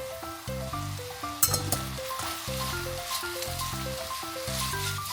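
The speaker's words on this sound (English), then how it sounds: "Now, before the noodles go in, add your butter and let it melt through." Butter melts and sizzles in a hot pan for a Korean fusion myeong-ran pasta, a steady close frying hiss with a brief clink of a utensil, set against a repeating background melody and no talk.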